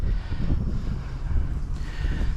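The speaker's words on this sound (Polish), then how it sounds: "Niestety nam strasznie tutaj wieje dzisiaj" Wind gusting outdoors at a fishing spot, a continuous close rumble of wind buffeting the microphone, loud and steady throughout.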